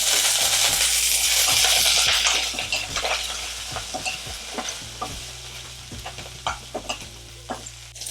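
Curry leaves and dried red chilies hitting hot oil, a loud hissing sizzle that bursts up at first then settles into crackling pops, with a spoon stirring and clinking against the pan.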